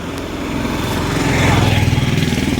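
Motorcycles and other vehicles passing close by on a road during an evening walk, a steady engine drone that swells in the middle and stays loud throughout.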